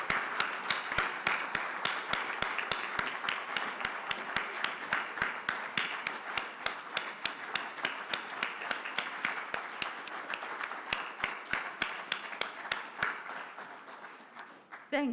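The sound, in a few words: warm round of applause from audience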